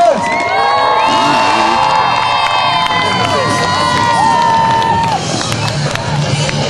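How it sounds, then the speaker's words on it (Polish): A loud crowd at the Tymbark Days freestyle show cheers, whoops and shouts continuously, with children's voices mixed into the sustained roar of noise. "zróbcie jakiś konkretny hałas tutaj dzisiaj"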